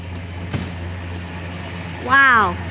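A car engine idles low and steady throughout, a continuous hum with a brief knock partway through and a voice-like rising tone near the end.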